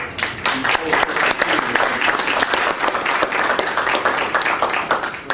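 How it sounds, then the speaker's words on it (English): An energy presentation audience in Laguna Beach bursts into sustained, loud applause, dense clapping from many hands that fills the room steadily and evenly throughout. "Let's have a round of applause for"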